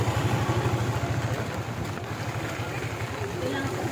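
Heavy rain pours over a flooded bridge, a dense, steady roar of rainfall with a rumbling, wind-buffeted low end that eases slightly after the first second and a half.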